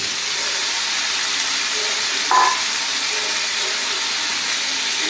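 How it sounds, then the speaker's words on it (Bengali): Fried egg and cabbage sizzle in a pan with a steady, even hiss throughout, broken by one brief soft clink of stirring near the middle. "এবার সব এগুলো আস্তে আস্তে করে আমি ভালো করে একটু নেড়ে চেড়ে নেব"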